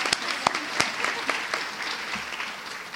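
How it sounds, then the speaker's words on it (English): A luncheon audience at a Soroptimist award event gives a round of applause, steady crowd clapping with a few sharper nearby claps standing out. "Please give them a good round of applause"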